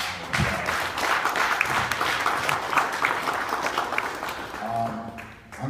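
Audience applause for a group of community football coaches at a coaches alliance event, a steady dense round of clapping filling the room for several seconds before tapering off.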